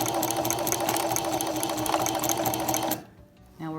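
A sewing machine runs in a fast continuous whir while stitching back and forth to knot a pant hem, then stops abruptly near the end, followed by a brief mechanical whir and click.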